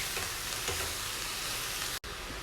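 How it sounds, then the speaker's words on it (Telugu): Amaranth leaves frying in a pan with seasoning while being stirred, a steady soft sizzle with faint scraping stirs and a brief break near the end. "తోటకూర అంతా కూడా బాగా కలిసేటట్టు మిక్స్ చేసుకోవాలండి"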